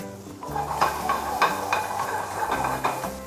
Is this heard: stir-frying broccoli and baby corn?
yes